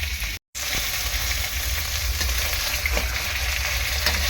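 Fish frying in hot oil in a pan, a steady close sizzle and crackle that carries on continuously, broken only by a split-second gap near the start.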